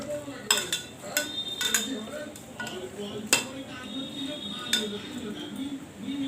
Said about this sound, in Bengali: এবার এটাকে ভালো করে মাখিয়ে নিচ্ছি